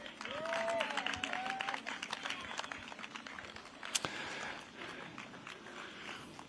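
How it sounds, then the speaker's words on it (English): Audience applause at a live polo event for a horse, a broad wash of clapping from a crowd that runs throughout at steady strength, with a public-address voice and some other sounds over it. "Let's have a round of applause for Sangria."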